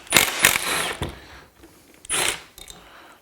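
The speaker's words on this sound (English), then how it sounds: "let's remove the 2 bolts" A seat rail bolt on a Honda S2000 being loosened with a ratchet: two quick bursts of clicking, a pause, then another burst, close and fairly loud.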